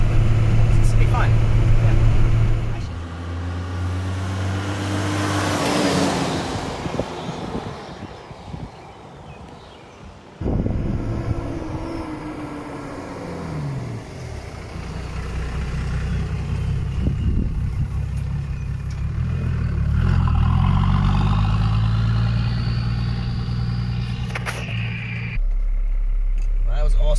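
Toyota FJ45 pickup converted with a 12HT diesel engine, rumbling and shifting through gears as it drives, loud and close with road and wind noise, while people talk over it.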